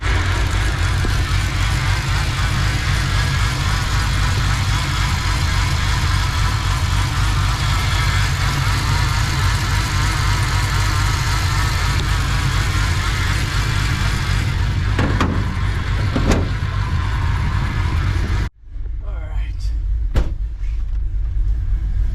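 A car engine with an LSA supercharger idles steadily and loudly while warming up, a constant low rumble that cuts off abruptly near the end, leaving a quieter hum.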